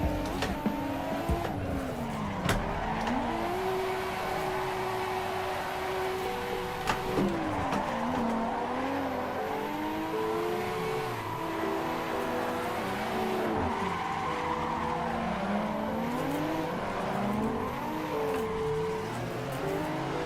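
In Assetto Corsa, a drifting car squeals its tires in long, wavering skids over a revving engine that rises and falls continuously, all loud and close with no talking.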